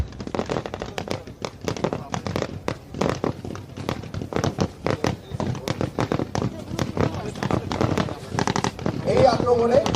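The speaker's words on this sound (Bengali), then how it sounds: "স্মোক স্ক্রিন বা ধোঁয়ার আবরণ সৃষ্টি করে নিজ ব্যাটালিয়ন সমূহ তাদের ফায়ার প্রদান করা হয়ে থাকে" Rapid, irregular gunfire and artillery bursts from a Bangladesh Army battle exercise, with smoke screens and battalion fire support, crackle densely and loudly for the whole stretch, sharp reports overlapping one another.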